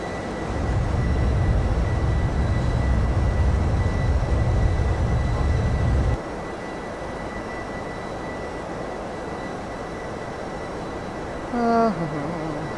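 Airliner engines in the X-Plane 11 flight simulator with the VSS sound pack: a steady, broad engine rumble that drops to a quieter hum midway, with a brief tonal chime near the end and no voices.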